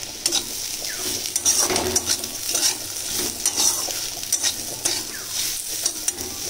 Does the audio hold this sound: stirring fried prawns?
yes